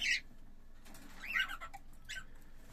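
A male cockatiel sings in short bursts while courting a female, with three brief whistled phrases rising over a quiet, steady room background.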